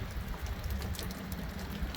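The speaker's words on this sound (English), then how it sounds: "it's been doing this light rain thing all afternoon" Light rain patters steadily outdoors in rural Horry County, South Carolina during Hurricane Ian, a soft continuous hiss of drops with gusty low wind noise underneath.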